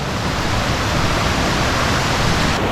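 A waterfall in the Hoh Rainforest of Olympic National Park roars loud and close as a dense, unbroken rush of falling water filling the whole moment.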